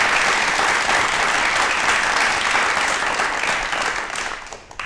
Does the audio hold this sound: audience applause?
yes